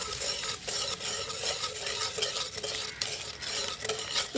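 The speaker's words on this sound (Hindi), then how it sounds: "अब हम इसके अंदर जेली डालते जाएंगे और इसको मिक्स करते जाएंगे।" Jelly is stirred into boiling water in a cooking pot, giving a steady, continuous scraping and bubbling wash that sounds close and fairly loud, with no talking.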